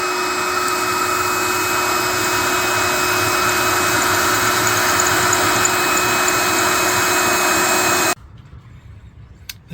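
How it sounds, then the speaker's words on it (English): A power drill whines continuously at high speed while drilling the head off a seized screw, a steady loud buzzing drone that stops suddenly, followed by near silence with a faint click. "let's try and drill the head of the screw off."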